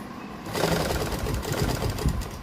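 Sewing machine stitching folded fabric to attach piping, a dense, steady mechanical whir that starts after a brief pause and runs evenly to the end.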